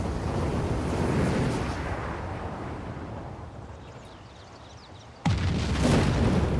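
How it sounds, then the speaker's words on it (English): A nuclear explosion in the strategy game Civilization VI unfolds as a heavy, sustained rumbling roar that slowly fades, then a fresh loud burst of rumble kicks in abruptly near the end. "And now we actually get to see a nuclear explosion."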